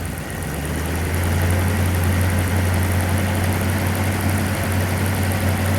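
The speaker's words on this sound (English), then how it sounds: "Okay, rev it up again, Jerry." A 1937 Ford car engine runs in a steady, loud, low droning rumble with a constant vibration throughout, rising slightly at first and then holding even, with no voices.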